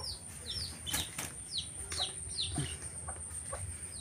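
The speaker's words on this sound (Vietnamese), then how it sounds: "Còn cái chị gà này là cái chị gà nuôi ăn thịt." Free-range native hens and their chicks on a Vietnamese farm: repeated clucks and high chirping calls come in quick, irregular bursts, with a soft flutter of wings over steady outdoor background noise.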